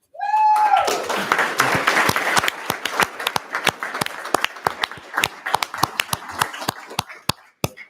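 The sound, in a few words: cheering and applause for student of the month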